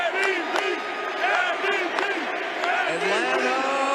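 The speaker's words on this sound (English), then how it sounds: "I think you've all got a chant for this next guy, and I think you know what it is. Austin Riley, let's hear that chant." Crowd of Atlanta Braves fans at a World Series championship celebration chanting for Austin Riley, a loud, rhythmic mass of voices repeating the chant in steady waves.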